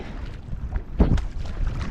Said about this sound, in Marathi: वारा आहे ना जाम